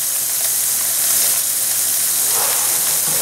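Lamb burgers sizzle in a pan of bacon fat with a continuous bright, crackling hiss and occasional small pops, loud and close, with no voices.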